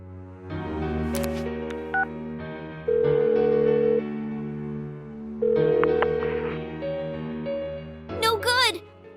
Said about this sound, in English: Give her another call.